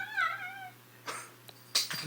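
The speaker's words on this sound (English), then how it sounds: "Wow, these cats." Domestic cats meow indoors: a clear, wavering meow at the start, then a few softer scattered cat sounds and a brief sharper cry near the end, all close and without talk.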